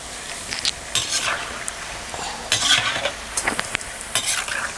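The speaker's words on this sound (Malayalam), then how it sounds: "കായ ഇട്ട് കഴിഞ്ഞിട്ട് കുറേശ്ശെ ഇടയ്ക്കിടയ്ക്ക് വറുത്ത് കോരി അങ്ങ് ഇളക്കി ഇട്ട് കൊടുത്താൽ" Raw banana slices fry in hot oil for Kerala-style chips, giving a steady sizzle close by, broken by repeated scraping and clinking of a stirring ladle against the pan.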